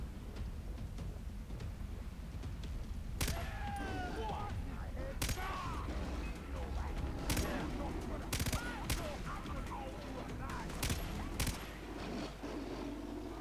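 Gunfire rings out in the video game Far Cry 3, a series of sharp shots cracking over a constant low rumble of game ambience, with scattered single reports and quick pairs spread across the clip while a player talks underneath.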